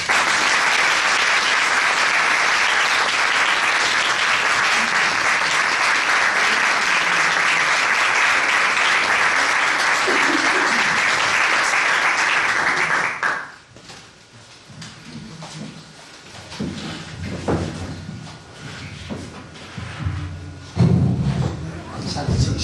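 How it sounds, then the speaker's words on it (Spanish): Loud, dense audience applause fills a lecture hall at the opening talk of a master's program in classical studies, then cuts off abruptly, followed by scattered thumps and handling noise as a speaker begins talking. "Vamos a darle un aplauso a Javier para que se sienta como en casa"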